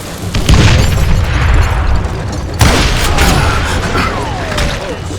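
Gunfire in the Western shooter game Call of Juarez Gunslinger: two loud, booming shots about two seconds apart, each followed by a long rumbling, echoing tail.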